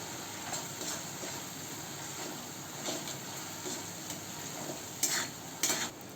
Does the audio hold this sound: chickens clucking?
no